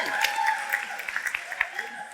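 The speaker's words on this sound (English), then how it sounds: "Round of applause for Chris." Brief, fairly soft applause from an audience at a Q&A for the Met's 50th birthday, scattered claps under some background talk.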